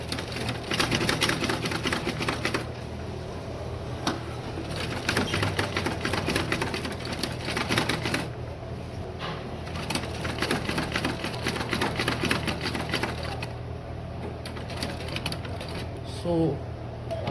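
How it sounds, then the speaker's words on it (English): A sewing machine runs at length, stitching the neckline of a garment with a 1/4 inch allowance, a continuous mechanical whir and rapid ticking close by with pauses, while a person talks over it. "Now I'll go to the sewing machine to sew the neckline."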